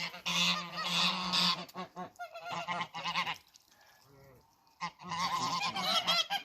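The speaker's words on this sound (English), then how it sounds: "Goose party." A flock of geese honks loudly and close in a farm front yard, with raucous overlapping calls that swell, drop to a brief quieter lull, then burst up again.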